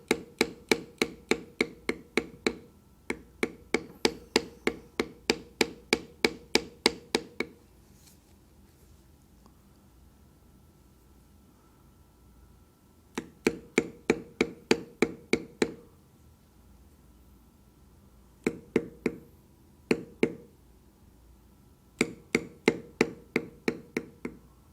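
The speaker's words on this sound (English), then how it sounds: "Now I will very carefully bevel around the outside of these legs to make them stand out." A bevelling tool struck with a mallet around mallard duck legs carved in leather, giving sharp evenly spaced taps in quick runs separated by quiet pauses, close and crisp.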